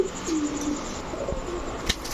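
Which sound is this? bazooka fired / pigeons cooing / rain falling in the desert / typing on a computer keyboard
pigeons cooing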